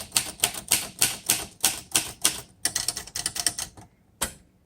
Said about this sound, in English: It's just such a pretty little typewriter.